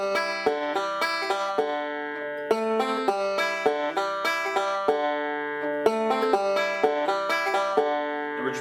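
Bluegrass banjo picks the melody of Keep On The Sunny Side with steady alternating-thumb rolls, bright plucked notes ringing in a quick, even rhythm, played solo up close with no talk.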